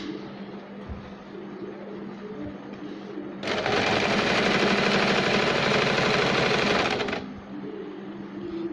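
Nearby, a sewing machine stitches the folded hem of a baby capri in one loud, fast, even run of about four seconds, with quieter handling noise before and after.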